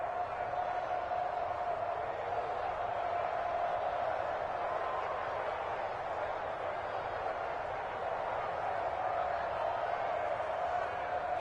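Stadium crowd at an American football game, a steady roar of cheering voices building ahead of a big third down, dense and continuous throughout.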